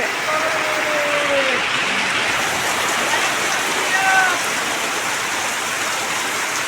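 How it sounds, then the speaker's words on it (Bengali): Dense, steady rain pours down in a continuous broad hiss, with a couple of faint tonal whistles or voices briefly audible beneath it. "কি পরিমাণে বৃষ্টি হচ্ছে শুধু তোমাদেরকে দেখাই"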